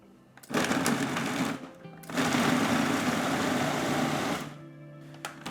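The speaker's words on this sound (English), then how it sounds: "putting it through the food processor is pretty safe in how you like can keep its texture" A food processor blitzes ginger in two loud whirring bursts, the first short and the second longer and steady, with brief pauses in between and the motor winding down at the end.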